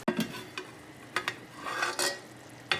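Spoon stirring yogurt into fried masala in a pan for chicken karahi, with soft sizzling beneath and several distinct scrapes and clinks against the metal, close and fairly quiet.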